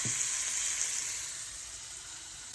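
Beef mince sizzles and fries steadily in a hot pan with melted butter, a continuous close hiss and crackle with no voices.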